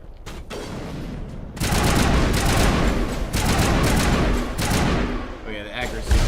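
Gunfire in the video game Mass Effect Legendary Edition: a brief quieter lull gives way to loud, dense bursts of rapid shots and thuds that keep going with short dips, with voices talking over the fighting.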